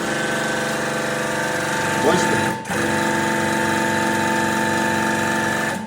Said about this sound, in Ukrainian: Навіть коли він закручений, ми вмикаємо нашу маслостанцію.